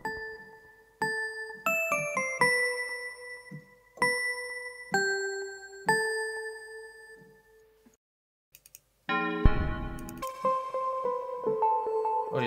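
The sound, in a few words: bell-type synth sound from Massive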